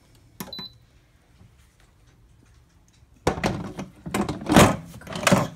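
A pressure cooker lid is handled and shut: one sharp click, a few quiet seconds, then a run of loud clattering knocks and scrapes nearby.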